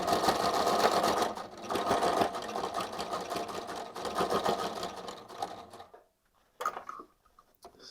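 A sewing machine stitches a tabard in close, loud bursts of rapid needle chatter, pausing briefly between runs before falling quiet near the end.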